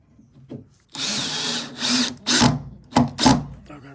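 A power drill pre-drills into hardwood during a buffet makeover, heard as four separate bursts of whining, grinding drilling. The first burst runs long, the rest are shorter, and each is loud and close with brief pauses between.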